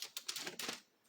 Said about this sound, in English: Make some noise with the crinkling paper.